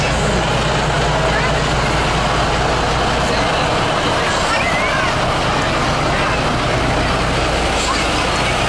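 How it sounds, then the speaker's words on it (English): An antique fire truck driving in a lighted Christmas parade, a loud low engine rumble close by under crowd noise and an announcer's voice. "Next we have State Representative Jeff Yarrick driving his antique fire truck"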